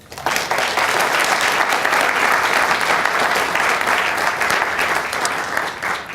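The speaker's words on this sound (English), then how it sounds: "Please give him a round of applause." An audience at a science communication competition final in Ireland applauds a judge, a broad, steady wash of clapping that starts suddenly and holds loud for about six seconds before tapering slightly.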